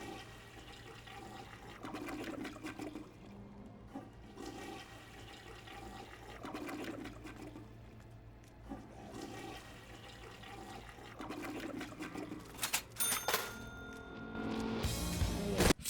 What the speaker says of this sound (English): Sometimes you had to flush a toilet 3 times.